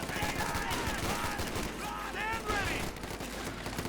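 Rifle fire from infantry and riflemen in Company of Heroes 2: dense, rapid crackling volleys over steady battle noise, with whistling effects overhead and no pause throughout.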